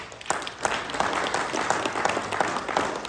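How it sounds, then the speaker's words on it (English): An audience applauds steadily, a dense patter of many hands clapping at a consistent level for a few seconds. "let's give James a round of applause"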